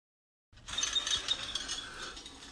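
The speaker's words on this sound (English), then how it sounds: "So here the robot is working on heavy clay cultivated to a depth of about 4 inches" A cultivating robot drags its tines through heavy clay soil, working about 4 inches deep the day after heavy rain. After a short silence, a steady close mechanical rattle and grinding begin, with scattered small clinks.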